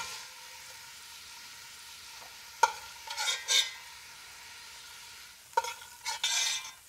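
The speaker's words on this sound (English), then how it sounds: "I'm gonna take them out with a slotted spoon" Browned shrimp being lifted from a hot pan with a slotted spoon, faint sizzle with two sharp metallic clinks each followed by brief scraping bursts.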